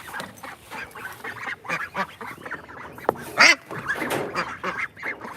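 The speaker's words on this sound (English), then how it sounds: "Hello, ducks." Young grow-out ducks on a small farm call in a lively, overlapping chorus of quacks and honk-like cries, close and fairly loud, with one sharper burst partway through and no talking.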